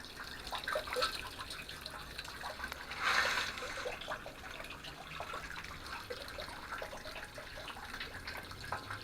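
Water trickles steadily into a freshly dug garden pond, a continuous soft splashing and dribbling with a brief louder gush partway through, recorded close by with no talking.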